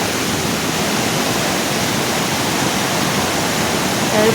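Steady, dense roar of rushing water at Kalarandi waterfall, broadband and unbroken throughout, heard from close by.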